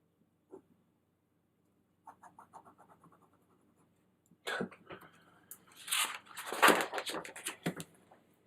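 Pencil doodling in a sketchbook: a lone soft scratch, then a run of light rhythmic strokes, then denser, louder scribbling and shading close up, with no talking.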